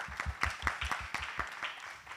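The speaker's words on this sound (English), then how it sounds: "Please join me to applause the speakers before wrapping up the day." Attendees at an AI, Data and Society workshop applaud the speakers: a short burst of distinct, rhythmic claps from a modest group, moderately quiet in a room.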